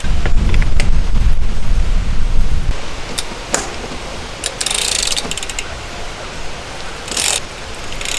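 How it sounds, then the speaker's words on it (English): A Stages power meter crank arm is fitted onto a mountain bike after the pedal threads are greased. A low rumble gives way to sharp metallic clicks and short ratcheting bursts from the tools and parts, close by, with no talk. "All right, I got the Stages crank arm on."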